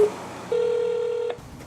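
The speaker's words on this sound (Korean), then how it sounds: "당시 주심을 맡았던 김성호 의원과 통화를 시도했다." A telephone call rings out: a steady ringback tone sounds alone for about a second, ending abruptly, with a brief quieter tone before it, while no one talks.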